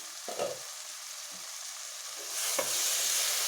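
Mixed vegetables for vegetable biryani sauté in a pan with a soft, steady sizzle, a few dull stirring knocks, and the hiss swelling brighter and louder partway through.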